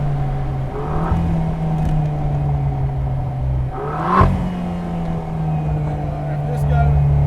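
A Vanderhall Laguna three-wheeler's engine drones loudly and steadily, with a short rev swelling near the middle before settling back to a constant roar on the open road.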